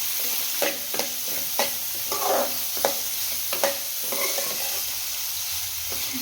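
Garlic-ginger paste and finely chopped onion sizzle in a pan for a fenugreek leaf gravy, with a steady frying hiss and a few scattered, close clinks and scrapes of a spoon stirring, no voices.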